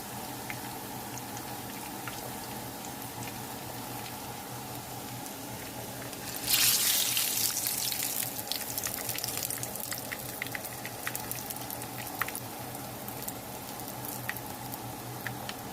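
Water runs steadily from a tap over a skillet being drained and cleaned after cooking smothered hamburger steaks, a constant rush with a louder gush partway through and small clinks of pan handling.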